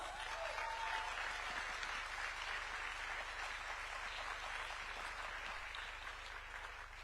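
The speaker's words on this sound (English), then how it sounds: "can keep clapping for her until she takes a seat" Audience at a summit in Nairobi, Kenya applauds a speaker, a steady, dense wash of clapping that continues throughout and slowly fades slightly near the end.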